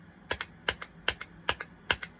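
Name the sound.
typing on a keyboard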